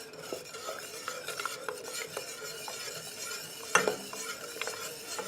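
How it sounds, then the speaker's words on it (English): Spoon stirring lemon curd of lemon juice and eggs in a pan, a steady close scraping and swishing with light metallic clinks and one sharper knock near the end, no talk. "I don't want to stop stirring."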